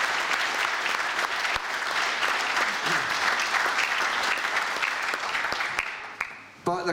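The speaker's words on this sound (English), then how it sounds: "I think a round of applause for all four." A crowd at the Piping Live 2022 Pipe Idol final claps for four bagpipers, sustained full applause that fades out near the end with a few last claps.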